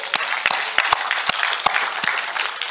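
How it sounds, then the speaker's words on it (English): Audience clapping for Kubernetes maintainers at a tech conference welcome session, a dense steady round of applause with sharp individual claps standing out, alone with no voices. "Let's clap"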